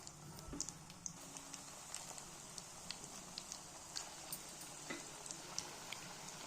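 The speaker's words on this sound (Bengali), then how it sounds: "তেলটা গরম হয়ে এসেছে এবার বড়াগুলো একে একে দিয়ে দেব" Mustard leaf fritters sizzle softly in hot oil, a faint, steady crackle with small regular pops and occasional spatters, heard alone and fairly distant.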